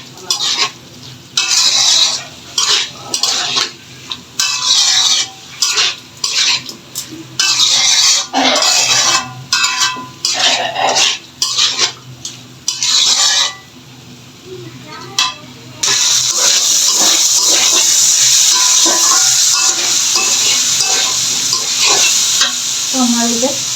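Vegetable stalks fry and are stirred in a pan for a pabda fish curry, with repeated scraping, stirring bursts over a hiss, then a steady loud sizzle for the last third as the cooking continues.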